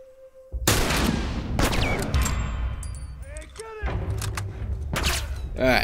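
Gunfire in The Last of Us, with several sharp, loud shots ringing out in quick succession alongside game sound effects and impacts, and a voice talking over the action.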